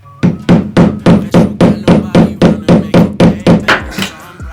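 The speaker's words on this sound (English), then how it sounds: "I just have to hammer this thing in" Repeated hammer blows strike a wall in a steady rhythm, about a dozen sharp, loud knocks close by, slowing slightly toward the end.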